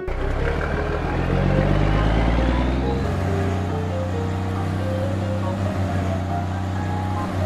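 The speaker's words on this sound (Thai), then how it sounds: "เอ้านั่นเสียงรถนี่นะสงสัยสายฝนจะมาแล้วล่ะ" A car arriving, its engine rumble loud and near with pitch shifting as it slows and settles into a steady idle.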